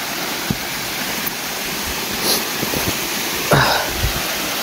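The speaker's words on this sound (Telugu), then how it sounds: "చిన్న ఫౌంటైన్." A small fountain of flowing water along a hillside trail at Ananthagiri Hills gives a steady, close broadband rush. A few soft thumps and scuffs rise briefly above the hiss.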